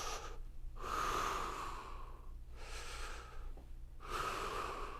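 Deep, slow breathing during a core exercise for low back and sciatica relief, long audible inhales and exhales in a steady rhythm, close and breathy with no talking.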